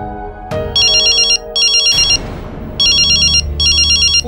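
A mobile phone ringtone rings inside a home, loud bursts of electronic trilling repeating four times with short gaps, alongside a thud and a brief rustle in between.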